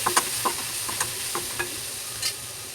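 Onion and tomato sauté in a pan with a steady hiss of sizzling, broken by soft periodic scrapes and taps of a stirring spoon at close range.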